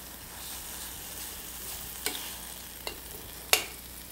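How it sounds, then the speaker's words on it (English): Sauce with chopped parsley for steak Diane stirred in a pan, a low steady sizzle punctuated by a few sharp metallic clinks of the utensil, the last one loudest, with no speech. "now we're going to stir that up"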